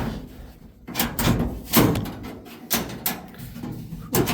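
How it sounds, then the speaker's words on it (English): A door is unlocked and handled in a home workshop, giving a string of sharp clacks and knocks spaced irregularly over a few seconds, close and fairly loud, with no voices. "Gotta unlock the door."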